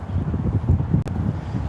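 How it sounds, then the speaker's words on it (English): Gusty wind buffets a microphone outdoors on a cold night, a steady low rumbling roar with irregular bursts and one brief dropout. "It's just so windy and cold tonight"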